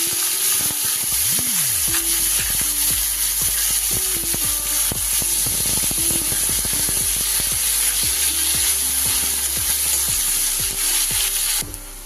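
Chopped onion dropped into hot oil over a cumin tempering for katla fish curry, a loud continuous sizzle close by, with scraping stirs now and then and no voices.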